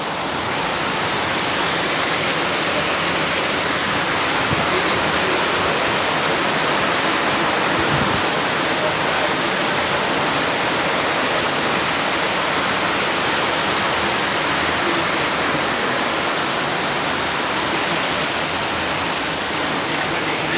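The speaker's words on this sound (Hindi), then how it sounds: "यहाँ पे बारिश ने अपना कहर ढाना शुरू कर दिया है" Heavy monsoon rain pours down in Delhi, a dense, unbroken roar of falling water that stays loud and even the whole way through, with no voices over it.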